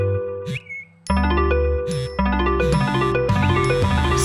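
Electronic notification chimes ring out loudly in quick succession, the bright bell-like tones stacking and overlapping into a dense, ringing cluster.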